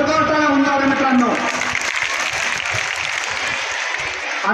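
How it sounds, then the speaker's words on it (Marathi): A crowd applauds at a Ganesh festival display prize-giving ceremony, loud clapping that breaks out as a voice trails off and keeps up steadily to the end. "एकदा जोरदार टाळ्या होऊन जावे मित्रांनो"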